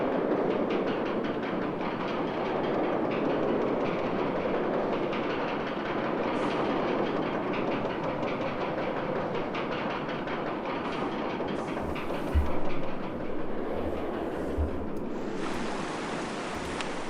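Roller coaster trains in the OpenRCT2 video game rumble and clatter along the track in a steady, continuous stream, with a few brief clicks and tones near the end and no talking.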